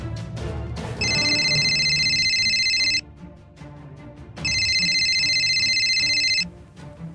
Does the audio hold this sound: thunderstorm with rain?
no